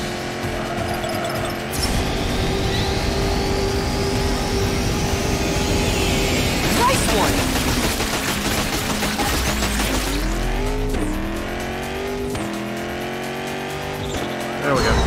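Race car engines from the Fast & Furious Spy Racers Rise of SH1FT3R game drone loud and steady, with rising pitch sweeps as cars speed up and long tire squeals through the turns, while someone talks over the action.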